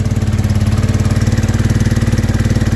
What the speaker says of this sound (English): Now that's obviously idling way too fast now